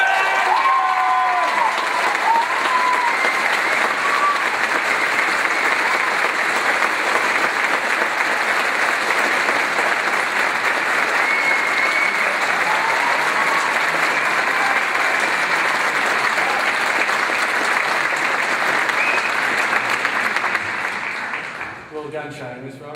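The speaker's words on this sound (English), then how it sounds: "join me in a round of applause" Long, sustained applause from a large crowd at a graduation valedictorian address, with some cheering and shouts mixed in, staying loud before fading out at the end.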